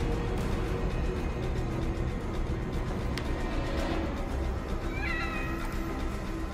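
A cat in the horror game The Evil Within DLC meows several times. The drawn-out, wavering cries rise over a loud, dense wall of background noise.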